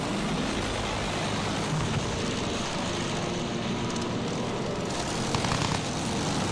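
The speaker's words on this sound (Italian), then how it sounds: "Là, è un aereo nemico!" An enemy World War I propeller aircraft from the Battlefield 1 game roars past, its engine a loud, continuous drone filling the whole stretch with no talking.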